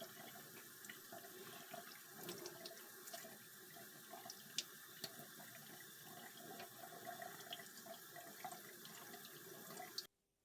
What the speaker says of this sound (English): We're going to start by washing the aloe vera leaves.